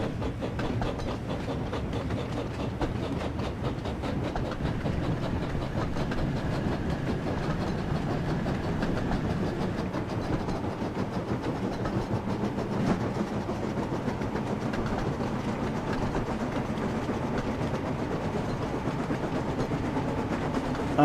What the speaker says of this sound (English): We've got a very long train, and I'm going to go as fast as possible.